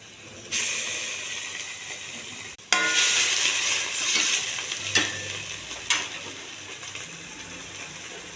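Sliced onion and ginger-garlic paste, with cumin and curry leaves, hit hot oil in a pan for a vegetable curry: a sharp burst of loud sizzling and hissing, then continued frying broken by a few stirring clanks.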